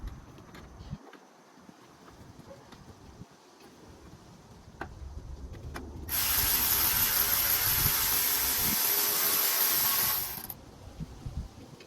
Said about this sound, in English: I'll go ahead and get my ratchet actually.